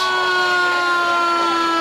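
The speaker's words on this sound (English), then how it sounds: "More sirens you hear as we see the county fire truck" A county fire truck siren wails loudly and close at a lighted Christmas parade in Texas, a sustained steady tone with layered harmonics and no talk over it.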